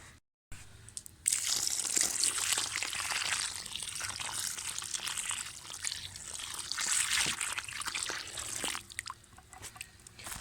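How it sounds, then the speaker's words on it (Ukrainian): About 10 litres of water pours steadily onto soil around a newly planted grapevine, a continuous close-up splashing and trickling that runs for several seconds with no voices. "зараз приблизно десь 10 літрами поляю зверху, щоб вода пропиталась"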